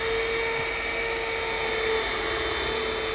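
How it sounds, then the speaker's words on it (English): A sanding disc grinds scratches out of a dome, a continuous high-pitched whirring buzz with a steady tone, close and loud, with no voices. "Let the sandpaper do the work, or the disc, I should say."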